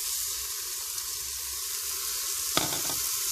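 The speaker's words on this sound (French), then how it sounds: "On mélange bien le tout." Fish, courgette and rice being stirred in a Cookeo multicooker: a soft constant sizzle and hiss with one brief spoon scrape and clatter partway through, fairly quiet and with no voices.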